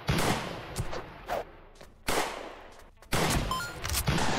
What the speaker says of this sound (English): we gotta watch out for that cannon guy over here, because he's gonna shoot us as much as he possibly can